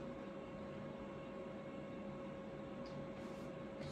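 A Cessna 182 taxis slowly at low throttle, giving a steady, faint droning engine tone with a constant hum that holds unchanged throughout.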